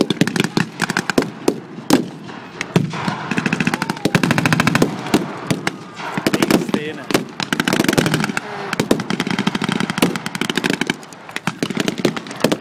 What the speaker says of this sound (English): The M8s fire heavily on the German forces.